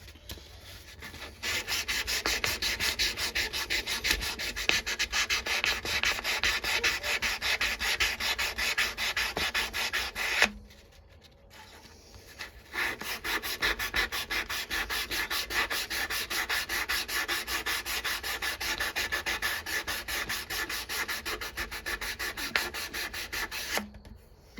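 Steady, close abrasive rubbing of 400-grit sandpaper worked along a knife blade, running continuously for about ten seconds, pausing briefly, then resuming just as evenly with a rapid back-and-forth rasp.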